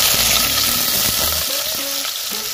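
Squid balls fry in hot cooking oil with a loud, bubbling sizzle, broken by a few short knocks and clinks of a utensil against the pan.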